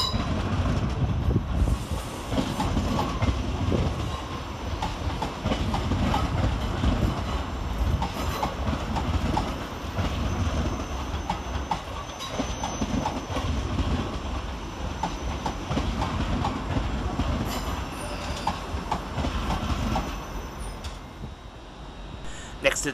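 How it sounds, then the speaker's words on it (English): A pair of ScotRail class 334 electric trains pull into Edinburgh Waverley station, wheels clattering and rumbling loudly over the rails with occasional squeals and clanks, alongside some talking. "the arrival of 334036 and 334002, terminated with a ScotRail service from Helensburgh Central"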